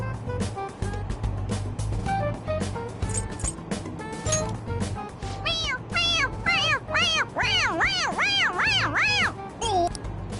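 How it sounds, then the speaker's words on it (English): A toy cat in the Persona 5 Royal video game gives repeated electronic meows when pressed on its head, clear rising-falling mews coming faster toward the end over a steady background hum. "It meows when you press on its head."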